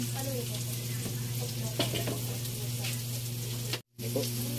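Onion and garlic fry in oil with a steady, close sizzle that holds throughout, broken by a brief cut to silence near the end before the frying resumes. A low hum sits under the sizzle.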